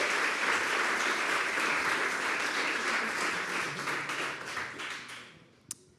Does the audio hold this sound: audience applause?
yes